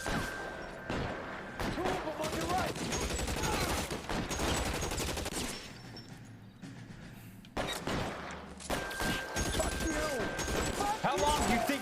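Sustained bursts of Tommy gun fire in the video game L.A. Noire, loud and rapid, broken by short pauses, with voices talking between the volleys.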